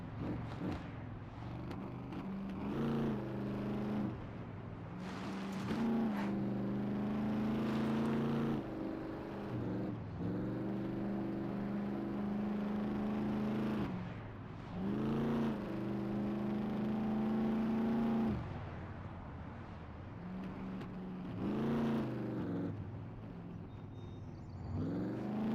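Engine of a truck being driven in a Viking-era hunting video game, a steady droning motor hum with rising and falling revs that runs continuously for the whole stretch, fairly loud with no talk over it.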